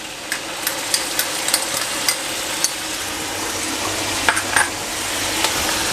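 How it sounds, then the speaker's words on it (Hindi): Mutton frying in a pot with ginger garlic paste for a mutton korma, a steady soft sizzle broken by scattered clinks and scrapes of a stirring spoon against the pot, close and fairly quiet. "और 1-2 मिनट के लिए इसको और मैं अच्छी तरह भून लूँगा।"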